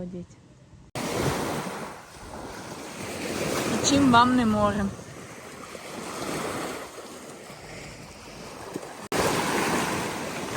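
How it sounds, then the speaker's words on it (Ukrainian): Surf roars and washes steadily against a shore, mixed with gusty wind noise on the microphone, while a person briefly speaks over it. "А який шум, волн, хвиль."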